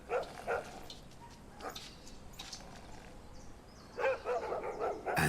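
Street dogs in Campo Grande, Brazil, bark in scattered, somewhat distant bursts, a few yips early on and a louder cluster near the end, over faint outdoor ambience.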